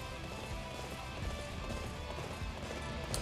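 Horse galloping in the video game Dynasty Warriors 8 Empires, a steady run of clip-clop hoofbeats under a dense wash of game ambience, moderately loud and continuous throughout.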